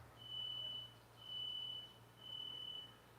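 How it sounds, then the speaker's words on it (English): Smoke alarm sounds three long, high, steady beeps with short gaps between them, faint and distant in an otherwise quiet room. "it might be a smoke alarm."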